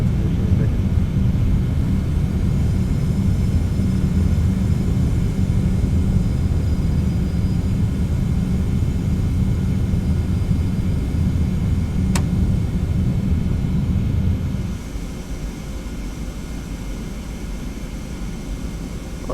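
TFDi 717-200 jet taking off in the Prepar3D flight simulator: a steady, loud, broadband engine roar that holds for about fifteen seconds, then drops to a quieter, even hum as the run continues, no talk.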